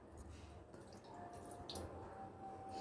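About three-quarters of a cup of water is poured into a pan holding rock sugar: soft, quiet trickling and dripping, with small splashes and faint clinks over a low room hum.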